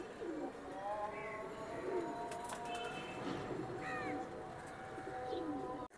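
A pair of military pigeons coo softly at a pigeon market, low repeated coos over faint background chatter and bustle, with a few higher chirps.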